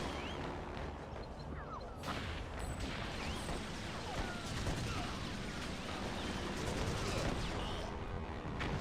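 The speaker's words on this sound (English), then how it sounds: "Rats, a machine gun nest." Machine gun fire from a British Army war game on PlayStation 2, run through emulation on a Raspberry Pi 5, rattles densely and continuously with explosive bursts throughout, loud and close with no pauses.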